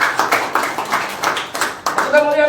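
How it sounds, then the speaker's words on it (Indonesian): A church congregation at an Easter service claps in rhythmic, fairly loud bursts, followed at the end by a brief voice. "Yang setuju, berikan tepuk tangan yang meriah."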